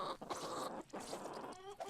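Chickens cluck and chatter softly in the fantasy video game Realms of Magic, a quiet, short run of overlapping bird calls with a brief higher squawk near the end.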